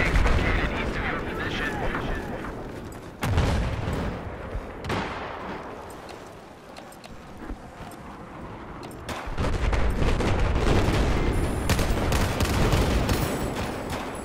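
Gunfire in a Battlefield 4 multiplayer Conquest match on Xbox One: loud, dense bursts of automatic fire and heavy blasts. The shots fill most of the stretch, with a brief quieter lull in the middle.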